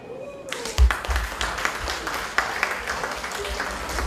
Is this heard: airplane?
no